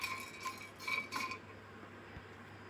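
Whole cloves, black pepper, cardamom, cinnamon and star anise dry-roasting in a hot kadhai for masala tea powder, giving a light crisp rattle and clinking in a few short bursts, close and fairly quiet, then settling to a faint hum.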